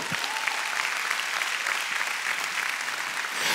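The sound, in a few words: loud applause for the Lord in church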